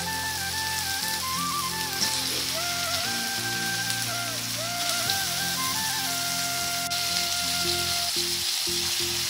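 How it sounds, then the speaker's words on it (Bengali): Meat frying in spices in a pan over a wood fire, a loud continuous sizzle with crackling bursts throughout, up close and with no talking. "এর মধ্যে মাংসগুলো দিয়ে দিই।"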